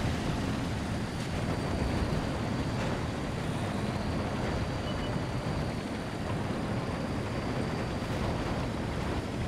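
Tank engines in World of Tanks, a continuous low rumbling drone with steady broadband noise, loud and unbroken throughout with no talking.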